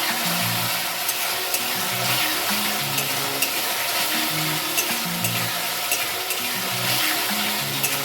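Chopped red and green capsicum sizzles in a frying pan for potato pasta, a loud, continuous close hiss with a steady low rhythmic stirring underneath.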